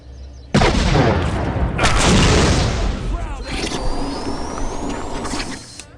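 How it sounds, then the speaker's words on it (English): Rocket launcher firing in the shooter game Postal 2, a loud sudden blast followed by a long roaring rumble, a second heavy boom, then whooshing and a rising whine as the explosion noise fades. "Seems like a good time to test out this rocket launcher."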